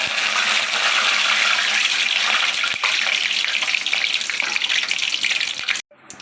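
Garlic and curry leaves fry steadily in hot oil for an okra fry, giving a loud, dense, continuous sizzle heard close by that stops abruptly near the end, with no voices.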